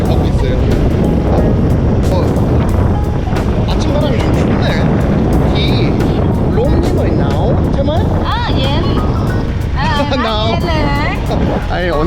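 Motorbike ride on a cool early morning in Thailand, heading to a market: constant loud wind roar and engine rumble close to the microphone, with people talking over it.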